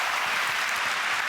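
A church congregation claps in a short, steady burst of applause, loud and close, with no speech over it.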